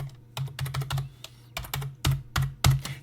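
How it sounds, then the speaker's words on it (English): Quiet, close keystrokes on a computer keyboard come in short irregular bursts of clicks with brief pauses between them. "right here we want to type Henry VIII"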